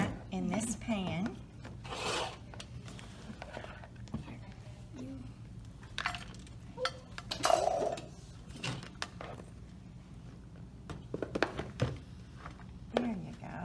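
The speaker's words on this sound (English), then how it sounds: "we're going to dump all of that in this pan" Granola mixture poured and scraped into a pan at home, with intermittent rustling, scraping and dry rattling bursts of the loose mix, fairly quiet and close, with a few spoken words between the pours.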